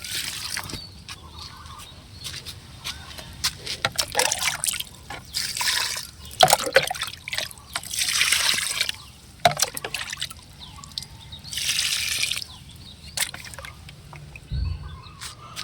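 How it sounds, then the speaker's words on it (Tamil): Water poured onto fertilized vegetable plants such as okra and tomato in a garden, heard as intermittent splashing and trickling bursts over quiet outdoor background with faint birds. "இப்போ உரம் கொடுத்த செடிகளுக்கெல்லாம் தண்ணி ஊற்றி விட்டுக்கலாம்"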